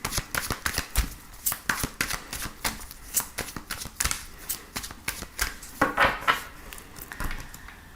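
A deck of oracle cards is shuffled close up, giving a fast run of crisp riffling slaps and soft flutters in uneven bursts with no talk over it.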